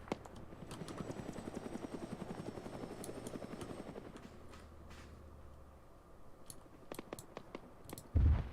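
Helicopter in the game Arma 3 coming in to land, a rapid rotor chop thumping steadily and close at first, then easing and thinning out, with scattered clicks and a sharp knock near the end.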